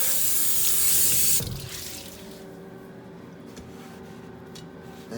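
A kitchen faucet runs loudly into a sink for about a second and a half while utensils are rinsed, then the flow eases to a softer trickle and splash.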